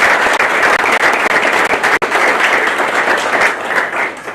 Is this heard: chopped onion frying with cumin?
no